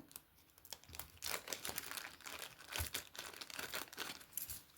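Plastic packaging around a sewing kit needle tube crinkles and tears close by, a quiet, busy run of rustles and crackles with one sharper snap partway through.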